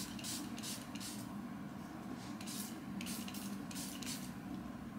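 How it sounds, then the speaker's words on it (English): Charlotte Tilbury makeup setting spray is spritzed close up in several short hissing bursts, with faint pauses between them and no talk, over a quiet indoor background hum. "I'm taking my Charlotte Tilbury setting spray"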